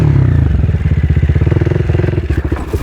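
A motorcycle engine held in a wheelie, close and loud, throbbing in a fast steady pulse that shifts pace as the rider goes from fast to slow, with no talk over it.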